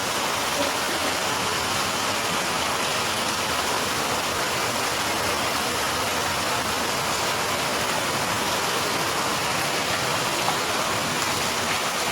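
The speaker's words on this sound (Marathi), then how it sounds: "छान असा पाऊस चालू झाला बघा" Steady, even rain falls over a farm, a continuous broadband hiss with no breaks, fairly loud and uniform throughout.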